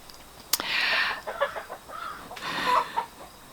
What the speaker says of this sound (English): This is the chicken's egg song, so somebody's in there laying an egg.